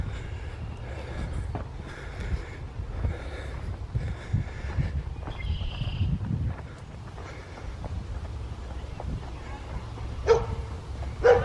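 A small puppy hiding in a tub barks a few times outdoors at an island park in Alpena, Michigan, with wind rumbling steadily underneath.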